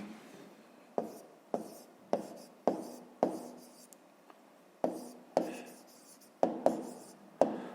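A pen writes on paper, a soft scratching broken into a dozen short strokes of varied length, close and quiet with brief pauses between them, while a math exercise is worked out.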